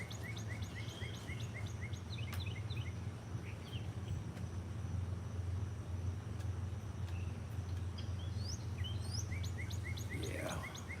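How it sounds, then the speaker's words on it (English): Birds chirp and tweet in scattered, faint calls over a quiet outdoor background with a low hum. "So, you hear the birds."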